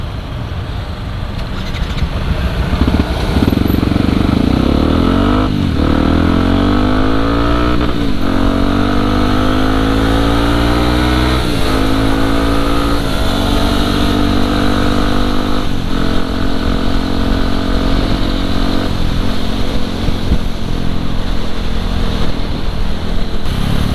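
A loud, raspy supermoto motorcycle with a racing exhaust roars up close, revving and climbing through the gears repeatedly with a harsh, continuous drone.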